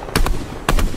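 Two quick bursts of pistol fire from a gray pistol in a video game, each a tight cluster of sharp loud shots, separated by a short pause.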